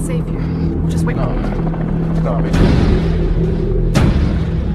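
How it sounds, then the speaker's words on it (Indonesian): A helicopter's rotor thrums steadily as it flies directly over a building in a zombie film scene, loud and close, with sharp booming impacts breaking through the drone. "Lalu mereka melihat satu helikopter yang melintas tepat di atas gedung ini."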